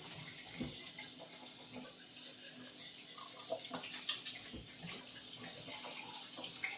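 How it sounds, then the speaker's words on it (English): Tap water running into a sink in a home kitchen, a steady, fairly quiet stream with occasional clinks and knocks of items being handled. "I don't like to leave the water running a lot"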